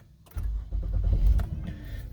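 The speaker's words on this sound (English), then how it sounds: "Now we're gonna start the car up." A 2016 Honda Odyssey's engine cranks and catches after a brief quiet start, then settles into a steady low idle rumble nearby, with no one talking.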